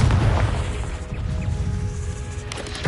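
A Confringo blasting spell detonates in Hogwarts Legacy, with a loud booming burst up front that rumbles and decays, followed by crackling debris and a sharp hit near the end.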